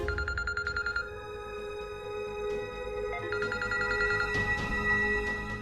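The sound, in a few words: telephone ringing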